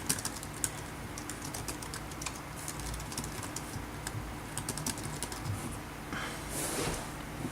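Someone types in Microsoft Word on the keyboard of an old PowerBook G4 laptop, making a steady run of light, quick key clicks. A faint background hum sits underneath, and no one talks.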